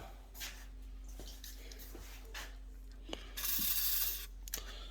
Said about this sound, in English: Probably spraying them with some lube